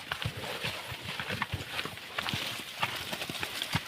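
Hooves of a working cargo horse clip-clop steadily on pavement as it squeezes through a tight passage, close and continuous with a brisk, even rhythm and background noise.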